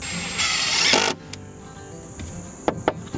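Driver or drill whirring as 1¼-inch decking screws go into the back planks of a firewood shed, a loud burst for about a second followed by quieter clicks and brief taps.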